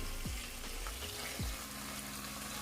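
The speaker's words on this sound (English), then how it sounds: "you just want to burn this in the oil a little bit and mix it up" Curry powder and turmeric fry in hot oil for a Jamaican ital vegetable stew, a steady, close sizzle broken by a few low scraping stirs.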